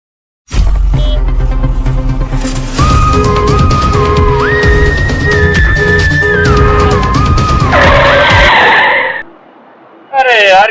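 A loud, sustained car skid sound effect with a rumbling engine and a squealing tire tone that shifts in pitch, then a harsh burst of noise, a brief lull and a final loud hit.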